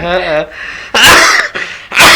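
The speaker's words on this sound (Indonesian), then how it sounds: "maaf ini lagi batuk" A few harsh, bursty coughs follow a short stretch of voiced sound, each burst loud and close with brief pauses between.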